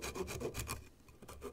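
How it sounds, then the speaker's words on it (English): A small flat saw cuts through thin wooden dowel skewers on a model farm tractor, giving quick, quiet rhythmic rasping strokes close up, with no voices. "And just cut these with the"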